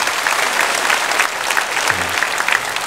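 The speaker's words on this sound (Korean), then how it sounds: "새 가족을 박수로 환영하도록 하겠습니다." A church congregation applauds during a Sunday worship service, a steady dense wash of clapping hands filling the full length, with a brief low murmur of voices midway.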